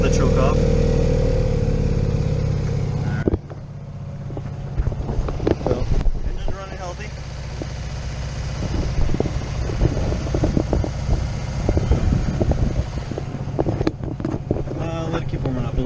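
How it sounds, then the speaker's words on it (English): A classic Fiat 500 engine warms up with choke partly on, a steady low rumble running under the whole stretch amid wind buffeting, with someone talking over it. "now that the engine's starting to warm up a little bit"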